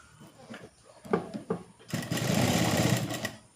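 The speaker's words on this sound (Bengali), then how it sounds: "এভাবে এর উপরে এখান পর্যন্ত আমি সেলাইটা নিয়ে যাব" A sewing machine whirs into a steady run stitching elastic on baby shorts, close and loud, after a few handling knocks and clicks.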